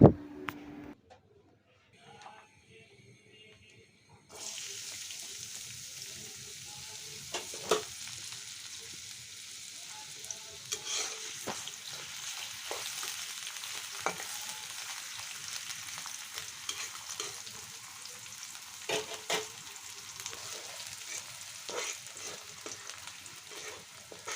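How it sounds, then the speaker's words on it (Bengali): Chopped onion dropped into hot oil for a Bangladeshi sweet potato and dried loitta fish curry: after a quiet start a sizzle bursts in, then keeps up an even crackling hiss with occasional stirring clicks, and no talking. "তেলটা একটু গরম হলে এর মধ্যে আমি পেঁয়াজ কুচি দিয়ে দেবো"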